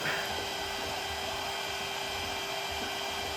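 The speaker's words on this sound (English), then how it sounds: "All I hear is air pushing through it." A steady hiss of air rushing through drained water pipes in a shower system, constant and fairly faint, with a faint hum beneath.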